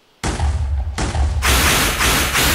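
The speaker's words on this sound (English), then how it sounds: "the Sceptre of Withering. It throws an exploding wither skull" Minecraft Sceptre of Withering firing an exploding wither skull: a sudden loud blast kicks in, then a second burst, then a sustained roaring explosion with a long rumbling tail, no voices.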